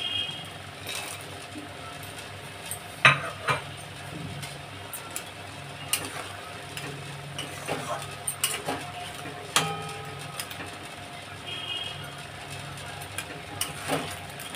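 Crabs stirred into a pan of simmering potato curry, with scattered metallic clinks and scraping knocks over a faint steady background.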